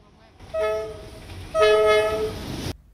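A train nearing a railway crossing in a residential area of Thanh Khê sounds two long horn blasts over the rumble of the rails, the second blast louder and closer.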